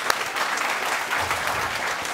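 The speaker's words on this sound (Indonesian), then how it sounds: "Sekali lagi kita berikan tepuk tangan buat Raja Terakhir, David Glenn." Steady audience applause at a practical technical workshop session, dense and continuous for about two seconds, fairly loud with no speech over it.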